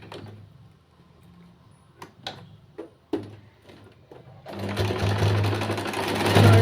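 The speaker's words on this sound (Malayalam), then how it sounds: "മറ്റേ സൈഡും അതേപോലെ തന്നെ ഷോൾഡർ ചേർത്ത് വെച്ചിട്ട് സ്റ്റിച്ച് ചെയ്യാം" A sewing machine stitching the shoulder seam of a lined churidhar, first a few separate clicks and thumps of positioning the fabric, then a steady loud whirring run of stitches that continues to the end.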